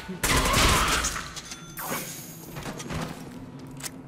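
Gunfire in the Deadpool video game: a loud burst of shots followed by scattered further blasts and mechanical clatter, with faint voices in the background.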